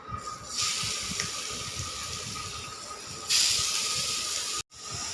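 Ash gourd frying in ghee in a wok, a steady broad sizzling hiss that swells louder partway through and cuts out briefly near the end, with no talking.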